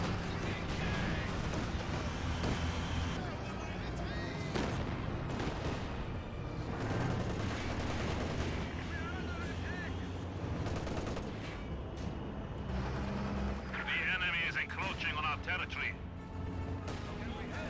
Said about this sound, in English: We're seeing a bit of bursts from this captured MG34